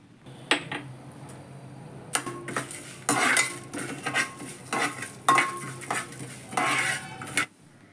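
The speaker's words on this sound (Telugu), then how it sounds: "1 స్పూన్ ధనియాలు, 1 స్పూన్ జీలకర్ర, కొద్దిగా మెంతులు వేసుకొని ఫ్రై చేసుకోవాలి." Urad dal, coriander, cumin and fenugreek seeds are stirred while frying in oil, with repeated metal spoon scrapes and clinks against the pan over a soft sizzle, close and in irregular bursts, with no speech.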